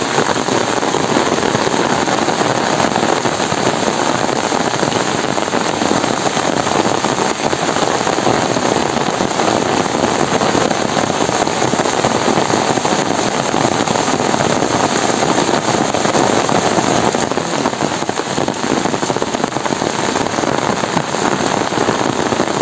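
Heavy rain pours down steadily, a dense, loud, unbroken patter of drops on surfaces lasting throughout, with no voices.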